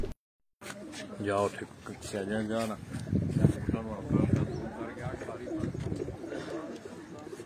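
Around 160 to 168 caged pigeons coo softly in the background while someone talks over them close by.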